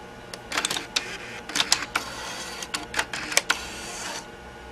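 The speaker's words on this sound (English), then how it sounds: "Let's go ahead and eject one of these CDs." Nakamichi 5-disc CD-ROM changer ejecting a CD: a run of close, sharp mechanical clicks and whirring clatters, bursts of varying length spaced irregularly over several seconds, with no voices.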